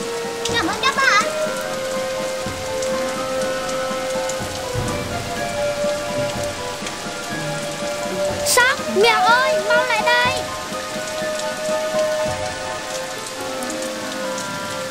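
Steady rain patters on surfaces throughout a children's animated cartoon, a constant wash under cartoon characters' lively voices and short musical effects.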